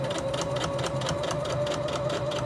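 A sewing machine stitches backward briefly and then runs forward along a seam, giving a steady, close, continuous motor whir with a rapid needle rhythm throughout.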